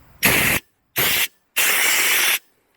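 Three bursts of rushing air hiss out steadily through a clear car sunroof drain tube, the last one longest, separated by short silences.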